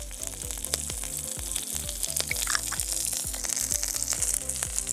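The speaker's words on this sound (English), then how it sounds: "Putting some oil in there." Oil sizzles steadily in a pan with deer heart cooking outdoors in the wild, a close, continuous frying hiss with faint crackles and no talk.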